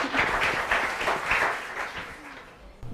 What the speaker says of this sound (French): On l'applaudit très fort, s'il vous plaît, cher public